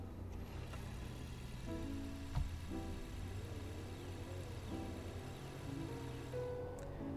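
A hybrid car accelerates from a stop to 60 in gas-only mode, its engine drone rising in pitch through several gear-like steps, heard faintly from inside the cabin.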